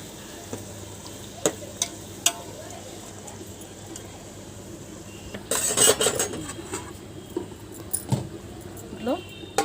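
A spoon scrapes and clinks against a pot while biryani masala with mint is stirred and mixed, with irregular metallic taps and a louder burst of sizzling scraping midway, fairly close.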